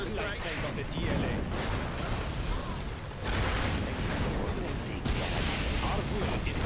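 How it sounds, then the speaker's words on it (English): Mortar strike in the strategy game C&C Generals Contra, with dense rumbling artillery booms and explosions piling up in continuous battle noise, a unit voice line briefly audible. "Mortar strike on the DLA."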